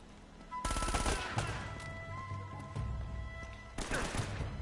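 Gunfire in Uncharted: Drake's Fortune, with loud bursts of rapid shots opening the clip, a sustained stretch of firing and echoing game ambience, then another burst near the end.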